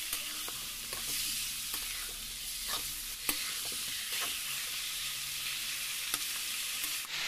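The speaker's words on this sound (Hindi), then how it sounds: "चिकन डाल दिया मैंने, प्याज के साथ अब चिकन को फ्राई कर लेंगे।" Chicken frying in a pan with onions and already-fried potatoes, a steady broadband sizzle with occasional soft stirring scrapes and clicks, close and continuous with no talking.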